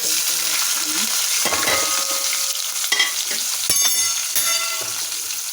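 Tempering spices crackle and splutter in hot oil in a pan before onions go in for a ridge gourd and chana dal curry, a dense continuous sizzle with sharp pops and some stirring scrapes, close and loud.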